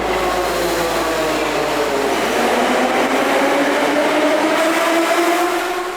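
A Moscow metro train runs through an underground tunnel, giving a loud, steady roar and rumble with a whining mechanical hum that holds for the whole stretch, with no voices.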